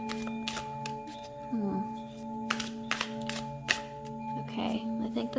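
Tarot cards are shuffled by hand in quiet bursts of crisp riffling and slapping, several short rustles spaced apart, beneath a low background hum and intermittent soft talk.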